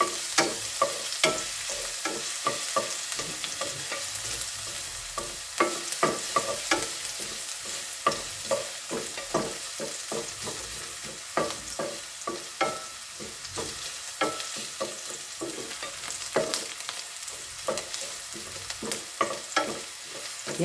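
Garlic and onion sauté in a pan with a steady sizzle, broken by frequent scraping stir strokes in an uneven rhythm, close and moderately loud with no talking.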